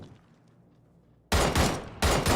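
A spray of gunfire in a competitive wingman battle royale match, two loud rapid bursts of shots breaking in after a near-silent stretch, the second burst short.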